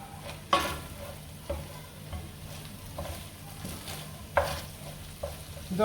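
Meat pie filling stirred in a pan, a spoon scraping at intervals with a few sharper knocks over a quiet, steady sizzle, close and alone.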